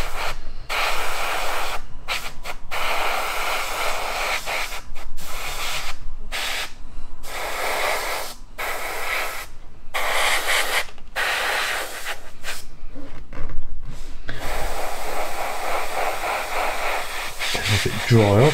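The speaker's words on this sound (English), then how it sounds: "This is the compressor." An airbrush fed by a compressor sprays aqua gloss coat onto a Litening targeting pod model in short, close hissing bursts separated by brief silences, followed by a longer continuous spray.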